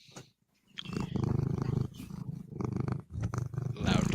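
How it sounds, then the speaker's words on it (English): A cat purrs loudly and close up in a steady rumbling rhythm, its breathing cycles marked by brief pauses between long purring stretches, with no talk over it. "Loud purring"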